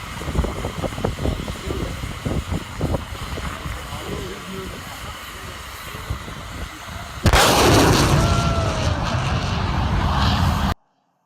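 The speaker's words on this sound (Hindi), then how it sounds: "एक धमाके की तरह की आवाज़ आएगी, उसको कहते हैं सोनिक बूम।" Several deep, sharp booms like a sonic boom, followed by an abrupt, loud and sustained roar of jet aircraft noise.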